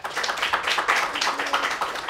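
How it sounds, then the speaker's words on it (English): An audience claps for a panel at a talk on autistic people and citizen science, a brisk, busy round of applause with close, distinct hand claps that continues evenly throughout. "can we give the panel a round of applause"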